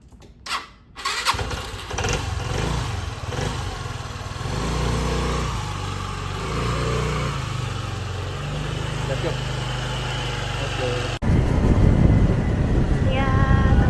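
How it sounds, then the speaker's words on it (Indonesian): A motorcycle ridden on rural roads in Montenegro, its engine catching after a brief start and then droning steadily up close with shifting revs, ending in a louder burst of wind and road noise. "Ya, teman-teman, akhirnya kita naik motor."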